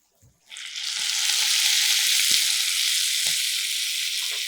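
Tomatoes hitting butter with cumin, garlic and ginger in a pan for butter chole masala, a sudden loud hiss that swells within a second and holds steady and close, with faint stirring taps beneath.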